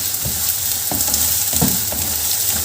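Vegetables sautéed in a hot pan for veg fried rice, an even close sizzle broken by a rhythmic series of spatula scrapes and knocks, roughly one every half second.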